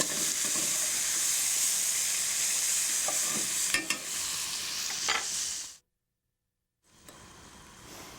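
Onions and pancetta fry slowly in a pan with a steady, close sizzle and hiss, punctuated by a few soft stirring clicks, before cutting to a moment of silence and then resuming.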